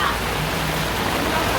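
Loud, steady rushing of a flooded creek swollen during a typhoon, a dense continuous roar of fast water heard close by.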